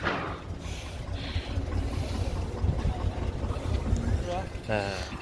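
A boat engine drones low and steady as the boat moves through fog in the Sundarbans, with wind buffeting the microphone and people talking over the running motor.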